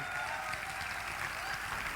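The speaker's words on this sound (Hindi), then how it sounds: "तालियां जोरदार होनी चाहिए माय डियर" An audience at an Achievers Day 2024 event applauds as a speaker is called on stage, a steady, even roar of many hands clapping, somewhat distant and unbroken.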